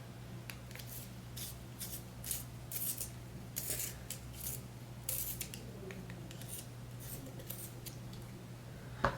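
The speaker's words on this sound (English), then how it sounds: "Let's sharpen this pencil." Coloured pencil being sharpened, a faint scratchy rasping that comes in short bursts over a steady low background hum, quiet and close with no talking.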